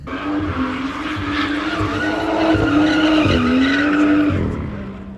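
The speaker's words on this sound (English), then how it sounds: "2 minutes and 30 seconds of donuts absolutely destroying my tires" BMW M2 spinning continuous donuts with stock downpipe, tires shrieking in a sustained, wavering squeal over a loud engine roar, close and steady for the whole stretch before easing near the end.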